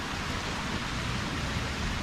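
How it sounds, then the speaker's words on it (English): Steady rain falls on a street during an evening thunderstorm in Southeast Michigan, a dense continuous hiss that holds even and fairly loud throughout with no voices. "The rain's really easing up now."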